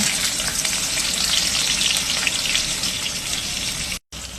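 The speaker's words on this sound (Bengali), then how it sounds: "খাঁটি সর্ষের তেল দিয়ে বানাবো একটু লবণ দিয়ে দেবো পরিমাণ মতো কিন্তু আমি পেঁয়াজটা দিয়ে দেবো" Onions frying in pure mustard oil for an evening vegetable dish, a steady close sizzle and crackle with faint stirring, continuous for a few seconds before a brief cutout near the end; no one speaks.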